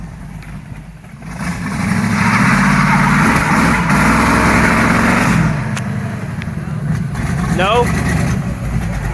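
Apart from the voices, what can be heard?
Chevrolet C10 truck engine with exhaust cutouts idling and stalling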